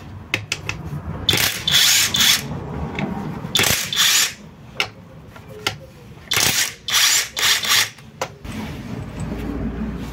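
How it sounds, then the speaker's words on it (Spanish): A ratchet removes bolts from the clutch bell and gear housings of a Fiat Fiorino City gearbox with a third-gear grinding fault, giving bursts of quick clicking with pauses between them, close and fairly loud. "voy a seguir retirando pernos para despegar las carcasas del cárter de embrague o la carcasa de los piñones"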